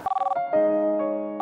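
A phone rings with an electronic ringtone: a quick warbling trill followed by sustained tonal notes, close and clear with no talk.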